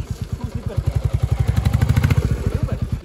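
A motorcycle engine chugs and struggles to pull, giving a loud, close, rapid pulsing throb that swells in the middle and then steadies.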